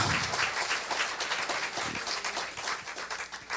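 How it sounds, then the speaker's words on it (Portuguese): Steady, full applause from a congregation during a Sunday church service, a dense continuous wash of clapping that holds at an even level throughout. "Você pode dar uma salva de palmas ao Senhor?"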